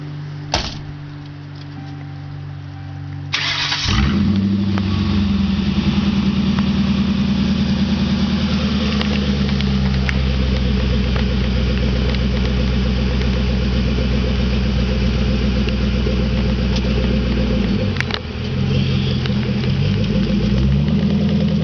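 A modified 1996 Ford Thunderbird on street tires cranks and fires up after a short quiet stretch, then settles into a steady, rumbling idle heard up close for the rest of the time.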